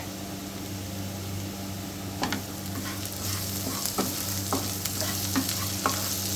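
Steady sizzling of onions and garlic frying in a pan, with occasional scrapes and clicks of stirring over a constant low hum.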